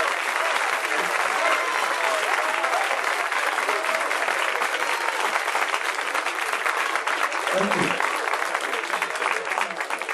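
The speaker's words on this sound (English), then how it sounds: "give him a big San Francisco round of applause" Sustained, dense applause from a big San Francisco audience welcoming comedian Richard Pryor on stage, steady and loud throughout, with faint voices calling out beneath the clapping.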